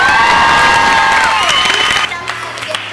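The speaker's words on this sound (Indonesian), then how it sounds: "mari kita beri tepuk tangan untuk juri kita hari ini" An audience at a school quiz competition claps and cheers loudly for the judges, with whoops and children's shouts over dense applause that drops off sharply near the end.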